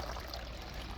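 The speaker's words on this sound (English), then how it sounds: "I added a water fountain for the foxes and the birds" A small garden water fountain, set out for foxes and birds, trickles and splashes in a steady, faint, continuous stream with no voices.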